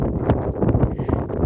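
Strong cold wind on the Meesapuli Malai mountain top buffets the microphone in a loud, continuous, rumbling roar.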